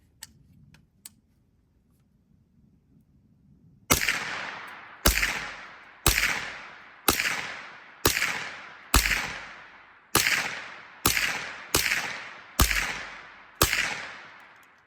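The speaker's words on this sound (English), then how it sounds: "Let's fire 10 through, see if we can see any real difference in it." A suppressed 9mm pistol-caliber carbine with an 8.5-inch barrel fires 150-grain rounds: after a few quiet seconds, about ten sharp, loud reports follow at a steady pace of roughly one per second, each with a short decaying tail.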